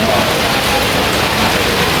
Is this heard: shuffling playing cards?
no